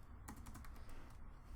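Rapid typing on a computer keyboard: a dense run of quiet, sharp key clicks and taps with short pauses, close by and alone without talk.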